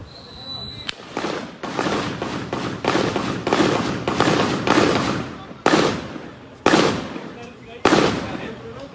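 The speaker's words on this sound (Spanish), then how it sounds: "eso que está viendo es una ráfaga de arma de fuego" Bursts of gunfire at a shooting scene, a rapid string of sharp cracking reports followed by several separate loud single shots, close and echoing, with no talking.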